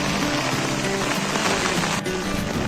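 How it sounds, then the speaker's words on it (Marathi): Steady rain pours down in a dense, continuous hiss, close by and fairly loud, with no voices over it. "मे महिन्यात जरा असा पाऊस पडतोय"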